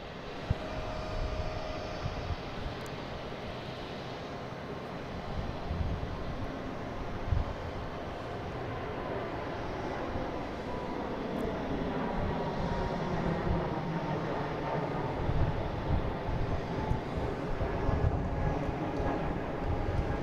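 A JetBlue jet airliner takes off at Boston Logan International Airport, a steady broad engine roar that swells gradually and holds loud for about twenty seconds, heard from a distance with no talk.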